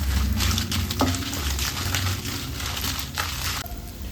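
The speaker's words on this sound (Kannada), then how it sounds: "ಇಲ್ಲೊಂದು 6 ಬ್ಯಾಡಗಿ ಮೆಣಸಿನಕಾಯಿ, 3 ಖಾರ ಮೆಣಸನ್ನು ಹಾಕ್ಕೊಂಡು ಫ್ರೈ ಮಾಡ್ಕೊಳ್ತೀನಿ" Six Byadagi chillies and three hot chillies frying in a pan, a steady broadband sizzle and crackle that stays close and fairly loud throughout, with no talk.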